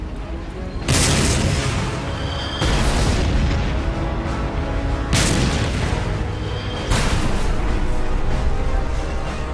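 A WWI German A7V tank fires its main gun four times at a battlefield, each shot a loud, heavy boom with a long rumbling decay, spaced a couple of seconds apart.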